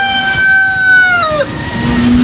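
Heritage chickens at a rain-soaked poultry farm, a rooster crowing loud and close in one long drawn-out call, with the clucking of other birds around it.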